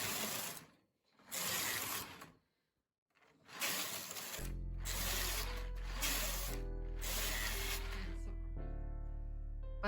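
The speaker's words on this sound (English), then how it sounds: "So now I will start knitting with the lace." An eKnitter-driven knitting machine works a lace pattern: several rhythmic clattering carriage passes separated by short pauses, then a steady mechanical whir with a low hum and ringing tones, close and fairly loud.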